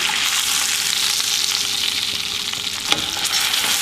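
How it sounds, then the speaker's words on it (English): A steak sizzles steadily in a cast iron frying pan as it is basted, a loud continuous hiss and crackle with a brief scrape or clink near the end. "I'm going to flip it over. And we're going to baste the other side."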